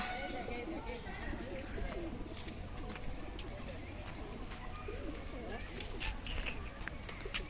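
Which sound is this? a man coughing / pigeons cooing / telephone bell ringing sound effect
pigeons cooing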